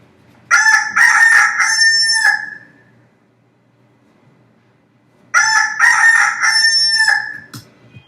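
A rooster crows twice, each call a loud, close, drawn-out cock-a-doodle-doo, separated by a few seconds of near silence.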